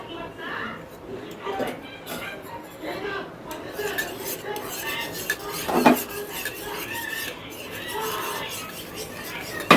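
Spices mixed into omelette batter in a home kitchen, a utensil clinking and scraping against a bowl in irregular strokes, with people chatting throughout.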